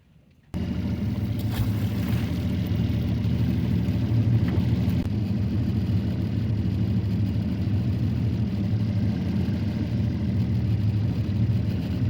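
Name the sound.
boat motor running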